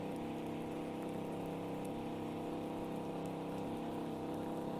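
Rain pours steadily in Farming Simulator 19 during corn planting, a constant hissing patter with a low machine hum underneath, unbroken and moderately quiet throughout.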